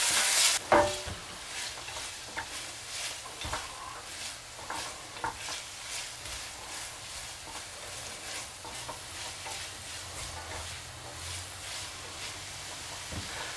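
Cheesesteak tortellini ingredients cook in a pan until soft, giving a quiet, steady sizzle broken by intermittent scraping taps from stirring.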